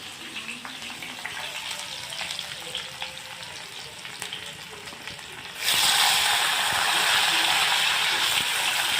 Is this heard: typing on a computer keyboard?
no